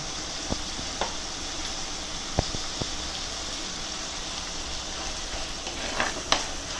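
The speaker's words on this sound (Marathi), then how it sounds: "मित्रांनो, आता आपला कांदा व्यवस्थित फ्राय होत आला आहे." Onions sizzling in a pan for a Kerala-style bangada fish curry, a steady crackling fry with a few sharp clicks from stirring, moderately quiet and with no voices.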